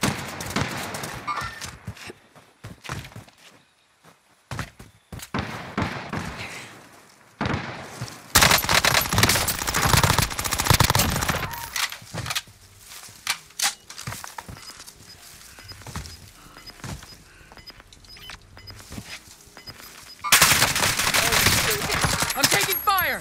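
Heavy gunfire in the Call of Duty: Modern Warfare game crackles in dense automatic bursts and scattered single shots, loud and close. It breaks off into short quiet gaps and swells again in rapid volleys.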